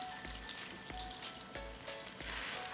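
Pork sizzles as it sears in a pan of hot oil and butter, a steady crackling hiss with soft rhythmic thumps underneath, heard close and alone.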